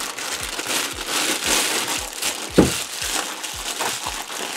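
Close plastic bag crinkling and rustling while packing engine parts from a Kymco Super 8 scooter, a steady crackly crumple with repeated soft handling bumps and one sharper crunch partway through.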